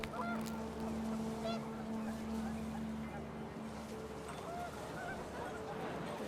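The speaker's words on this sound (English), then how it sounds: "The wind picked up, and panicked geese appeared and quickly went." Panicked geese honk in What Remains of Edith Finch as the wind picks up, a brief flurry of calls under a steady tonal hum and rushing wind, with a voice speaking over it.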